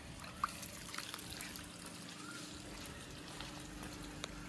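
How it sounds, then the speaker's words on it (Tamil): Irrigation water trickles and flows faintly from an opened valve in a garden with a jackfruit tree, a quiet steady stream with a few soft drips and clicks. "இதை ஓப்பன் பண்ணி விட்டேன்னா தண்ணி வர ஆரம்பிச்சிடும்."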